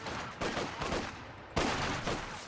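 Machine guns in a strategy video game fire several short, punchy bursts in quick succession, at moderate loudness over the game's background noise.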